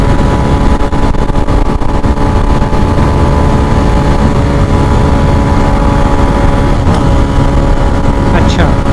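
Loud, close engine roar from a Benelli 150i and a 2019 Suzuki GS 150 SE motorcycle drag racing, a constant revving drone that fills the whole stretch, with a voice faintly under it.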